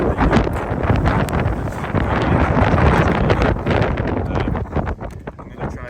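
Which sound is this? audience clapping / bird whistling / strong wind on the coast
strong wind on the coast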